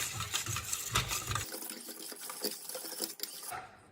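Plaster mixed with water and dioxide is stirred with a churning, buzzing whir. A low rumble drops out partway through while the higher, gritty swishing continues close and fairly quiet.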